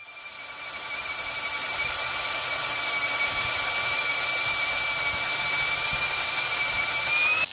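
A drill bores out the centre of a broken-off bolt, giving a loud, steady high whine that runs on without a break, close up and with no talk.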